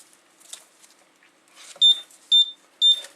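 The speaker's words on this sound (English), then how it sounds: "That'll be all that beeping is telling you that there's no labels in" A Milestone MHT-L1081 thermal shipping label printer with no labels loaded beeps three times in a regular rhythm, sharp and close, after faint handling noise.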